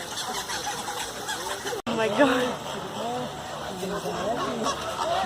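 A large flamingo flock at a bird park calling, with honking and squeaky, toy-like cries layered densely at close range while people talk over them.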